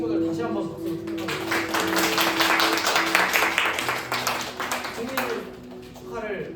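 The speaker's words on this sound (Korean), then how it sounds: "여러분 우리 7월에 생일이었던 우리 친구들 다시 한번 박수로 축하합니다" A church youth group applauds to celebrate members with July birthdays during a summer retreat service. The dense clapping swells in the middle and then fades, with a voice speaking at the start and at the end.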